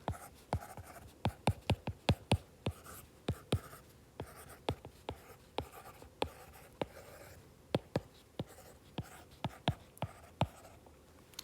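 Pen scratches quickly across paper close up, in a quiet room, with a rapid series of sharp strokes and taps coming in uneven bursts.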